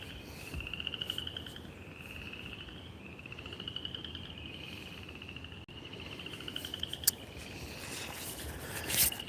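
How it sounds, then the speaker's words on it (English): Frogs call in a steady pulsing chorus with crickets and other insects trilling behind them, an outdoor nighttime-style soundscape heard at moderate distance with no one talking. "Got some frogs and stuff in the background."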